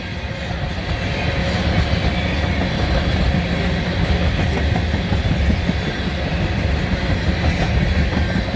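A diesel train on the old B&O line rumbles past close by, loud and steady, with continuous wheel clatter and engine roar filling the whole stretch.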